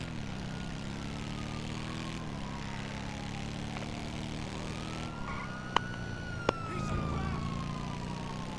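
A police car siren wails in a video game, its tone gliding slowly over a steady engine drone, with a couple of sharp clicks near the end and no talk.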